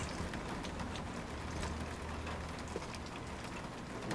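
Steady rain pours in the video game Death Stranding, an even broadband hiss that holds constant throughout with a low rumble underneath and no talking.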